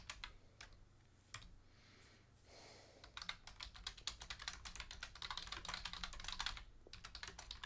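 Rapid, uneven clatter of computer keyboard typing, with bursts of keystrokes gaining in density and pausing briefly, fairly close and alone.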